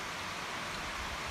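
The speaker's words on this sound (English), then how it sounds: "Now it's starting to rain" Steady broadband hiss of rain falling outdoors at a shooting range, a constant even wash with no distinct drops or voices.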